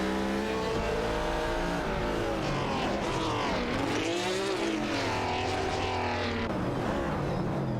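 Several racing cars in a video game race, including a Nissan R382 and a McLaren, roar continuously with rising and falling engine pitch as they pass and shift, loud and close throughout.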